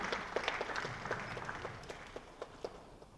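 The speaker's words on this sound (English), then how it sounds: "a round of applause for Dr." Moderate applause from an audience at a cybersecurity policy panel, a soft wash of clapping with a few distinct individual claps standing out, tapering slightly over the short stretch.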